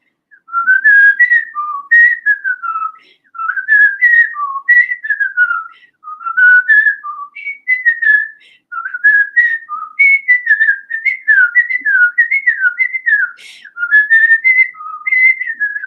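A lone person whistles a tune, a close, clear melody of short rising and falling phrases with brief pauses between them, with no other sound around it.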